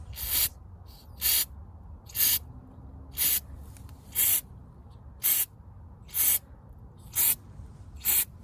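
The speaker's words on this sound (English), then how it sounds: "So we're gonna use this mass airflow sensor cleaner. And according to the video I watched, we'll just use short bursts." Mass airflow sensor cleaner sprays onto the MAF sensor of a Prius in nine short, evenly spaced hissing bursts, each lasting about half a second, close and crisp against a quiet background.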